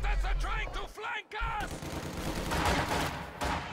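An MG42 machine gun fires in a World War II video game match, rapid bursts of automatic fire near and loud, with a commentator's voice talking over the gunfire.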